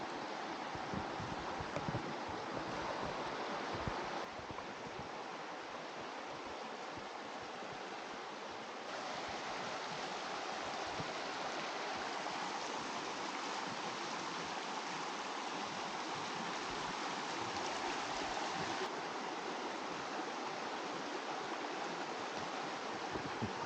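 Steady broadband rush of the North Fork Umatilla River flowing in an Oregon forest, a continuous close stream sound with no break and no voices.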